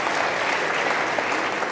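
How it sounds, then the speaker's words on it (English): Audience applause at an evening town hall forum lecture, steady and even clapping from a sizable crowd filling the whole moment at moderate volume. "That's a very nice applause."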